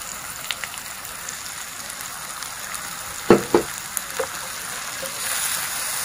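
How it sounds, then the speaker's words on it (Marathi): Chopped carrots and green peas sautéing in a pan for vegetable biryani, a soft steady sizzle with a few sharp stirring clinks and scrapes, close and without talk. "हे आपण व्यवस्थित परतून घेऊया"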